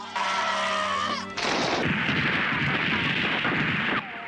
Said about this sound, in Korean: 로버트는 오스미에게 총을 쏘고 방심을 합니다